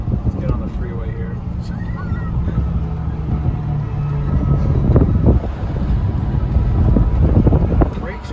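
A Mercedes S600 fitted with an F1-style exhaust drives through streets lined with buildings, its low engine rumble rising and falling as it accelerates, heard from inside the car beneath gusty wind noise and occasional voices.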